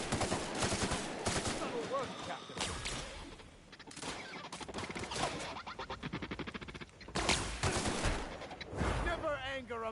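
Gunfire in the video game The Outer Worlds: rapid bursts of shots and impacts in a busy, continuous firefight, with voices calling out in between.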